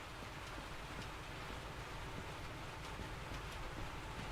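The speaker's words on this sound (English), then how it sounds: "now I get to listen to the sound of falling rain" Steady falling rain in the train game Derail Valley, a dense, even hiss with faint scattered drop ticks that continues unbroken and fairly loud throughout, with no voices over it.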